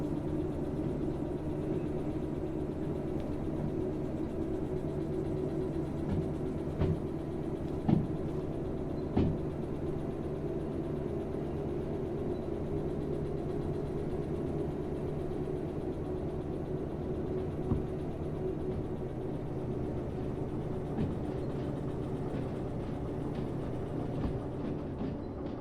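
Locomotive engine in the train simulator game Derail Valley, working under light throttle while backing onto a siding, a steady low droning rumble with faint clanks, nearly alone for the whole stretch.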